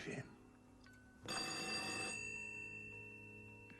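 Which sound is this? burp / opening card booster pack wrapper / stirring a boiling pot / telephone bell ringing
telephone bell ringing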